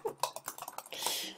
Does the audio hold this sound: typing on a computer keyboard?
yes